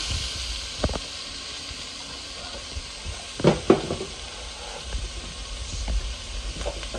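Leeks, onions and other vegetables sizzle softly in a pot while a utensil scrapes and clinks against the sides a few times, with irregular stirring.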